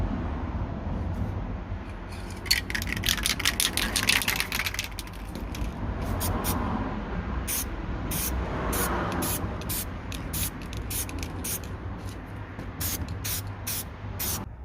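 Aerosol spray paint hissing steadily as a third coat goes onto a BMW E60 gear shifter trim piece, with short repeated bursts toward the end, fairly close.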